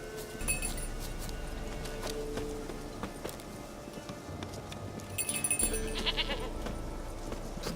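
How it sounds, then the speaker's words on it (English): A small bell clinks and jingles repeatedly as a goat is led along in The Witcher 3, with bright metallic chimes over a continuous game ambience and background music. "Do I really have to keep ringing this bell for you to follow?"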